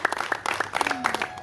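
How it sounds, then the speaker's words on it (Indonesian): A church congregation claps together, dense, fast and uneven, close and moderately loud, for a short burst. "Tepuk tangan buat Tuhan Yesus."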